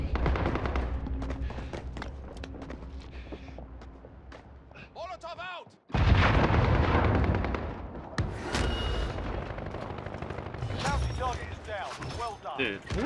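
Automatic gunfire and a sniper shot in Call of Duty Warzone on Rebirth Island, with an MP7 in play: sharp bursts and loud single reports punch through, followed by a sudden heavy blast, while people talk over the action.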